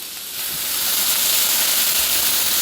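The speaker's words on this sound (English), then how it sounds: "gotta love that sizzle" Pico sizzles in hot oil, a bright hissing crackle that swells quickly and stays loud and steady, with no voices.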